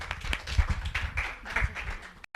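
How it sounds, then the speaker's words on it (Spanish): Brief burst of audience applause at a talk on art and gender, scattered claps of moderate loudness lasting a couple of seconds before cutting off. "Un aplauso también para ella."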